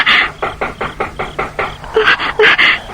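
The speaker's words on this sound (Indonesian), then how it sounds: "Siapa yang mengetuk jendela kamarku?" Knocking on a bedroom window at night in a horror drama: a steady run of about a dozen sharp, evenly spaced raps, fairly loud and close, with no voices.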